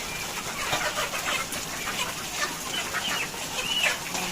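Chickens at a poultry farm cluck and squawk in a busy flock while being caught, repeated agitated calls close by over a steady background hum, without speech.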